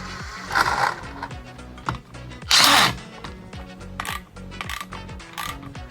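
Bolts and nuts being tightened onto the rear fender of a Maverick 98 mini bike kit, with repeated ratcheting clicks, metallic clinks and a few louder bursts of tool noise, close by with no talk.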